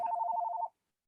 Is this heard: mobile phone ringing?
yes